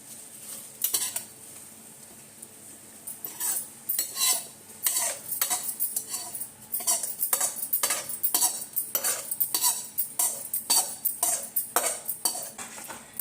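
A spoon stirs a sautéed mixture into lemon pickle in a bowl, making rhythmic metallic clinks and scrapes that come in quick bursts over about thirteen seconds.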